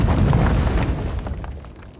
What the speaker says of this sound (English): We need an explosive blast.